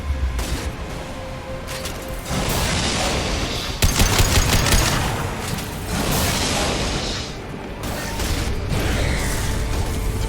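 Weapon fire in the video game Mass Effect 2 comes in loud bursts of rapid mechanical shots, several volleys with short pauses between them, close and harsh.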